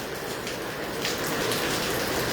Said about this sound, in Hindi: बूंदाबांदी शुरू हो गई है भाई